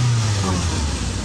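A 1998 Honda Civic VTi, a USA import with 82,000 kilometers, gives a short engine rev, a loud, close mid-pitched roar that swells and eases back toward idle.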